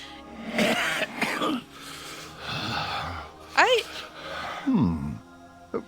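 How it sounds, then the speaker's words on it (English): Meryl, an ill World of Warcraft character, coughs and clears his throat in a few rough bursts spread across several seconds, with strained breathy gasps and voiced groans between them. "He coughs and shivers feverishly"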